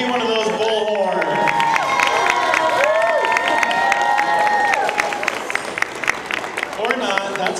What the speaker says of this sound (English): Give them a big round of applause and maybe one of those bullhorns.